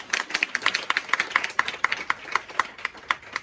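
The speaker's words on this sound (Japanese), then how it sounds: "別に拍手してもらっても構わないんですけど" Applause at a BUMP OF CHICKEN event, a fairly small crowd clapping in quick uneven bursts, close and crisp, with no talk over it.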